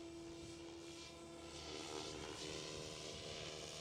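A SAB Goblin 570 RC helicopter hovers in gusty wind, its steady rotor and motor drone holding a high whine with a constant sustained roar, heard from a moderate distance with no talk.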